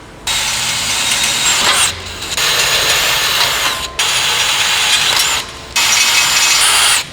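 A power drill enlarging pilot holes to 7mm in a metal crossbar runs in four loud bursts of steady whirring, each lasting one to two seconds, with brief pauses between.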